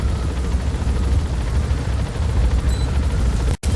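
A helicopter in Metal Gear Solid V: The Phantom Pain gives off a loud, continuous rumbling drone that cuts off abruptly near the end.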